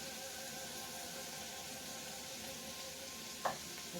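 Onions sautéing in a pan for homemade hotdog truck onions, a steady soft sizzle and crackle with one brief clink of a utensil near the end.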